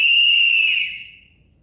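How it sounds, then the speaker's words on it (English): A single shrill whistle blast, loud and close, held steady for nearly a second before trailing off into quiet. "We call foul and blow our whistles."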